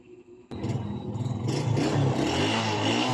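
A Suzuki Smash 115 motorcycle with an electrical wiring fault and a previously weak battery: a sharp start after a short quiet moment, then a steady, close engine running with a rougher rise in revs and mechanical clatter, loud and with no talk.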